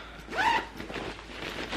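A zipper closes on a knitting bag in one short, close rasping pull, fairly soft, followed by faint rustling.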